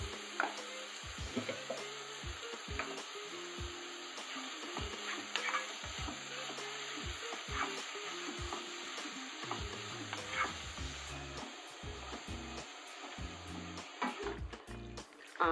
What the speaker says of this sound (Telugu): ఉల్లిపాయ ముక్కల్ని దోరగా వేయించుకొని చిటికెడు పసుపు వేసుకోవాలి.